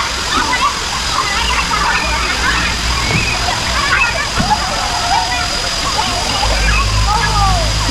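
Water pours steadily at the Sai Yok Noi waterfall and swimming area in Thailand, a constant broadband rush with splashes and sloshing from swimmers, and faint voices carrying in the background.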